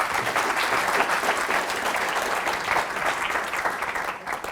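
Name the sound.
conference audience applause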